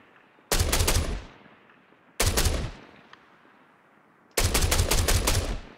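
Assault rifle fire from the video game Star Citizen comes in three loud, close bursts of rapid automatic shots, each lasting about a second with short silent gaps between them.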